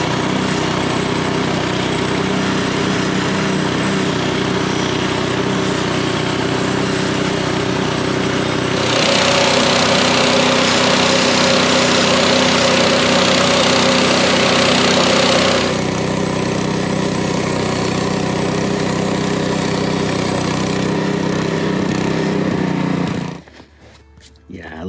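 Engine of a Frontier OS18 sawmill runs steadily and loudly through a board cut held by a homemade edge clamp. It swells into a harsher, stronger drone mid-cut, then drops off abruptly near the end.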